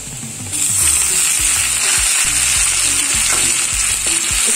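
Tomatoes dropped into hot oil with browned ingredients for shahi paneer, a loud sizzle surging up at once and holding steady and close, with soft stirring knocks underneath.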